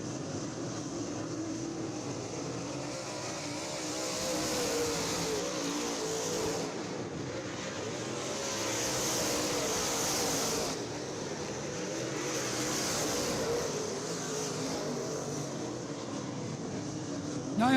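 Modified race cars lapping at Ocala Speedway during a night race, engines droning steadily at a distance and swelling as cars pass, with a continuous roar and no voices.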